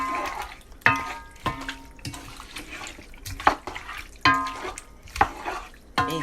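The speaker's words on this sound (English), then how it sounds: "Stir it really good." A spoon stirs a pot of seasoned chicken, beef and shrimp stew, with wet sloshing and repeated sharp scrapes and knocks against the pot in an irregular rhythm, close by.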